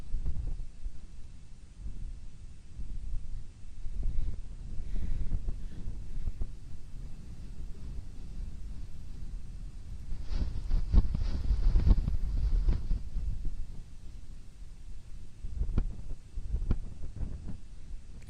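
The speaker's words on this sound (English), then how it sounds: "There's that wind again." Wind gusting at Kilauea volcano in Hawaii, a steady low roar and rumble that swells and buffets the microphone for the whole stretch, with no voices.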